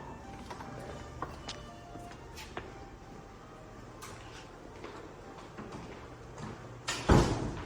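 A door secured by a Latch smart lock unlocks and swings open, heard as a sudden loud clunk near the end after a stretch of quiet room noise.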